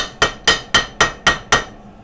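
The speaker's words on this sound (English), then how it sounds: "and hammer it." Six evenly spaced sharp metallic hammer blows knocking built-up enamel off a metal mandrel, loud and close with brief ringing decay, no talking.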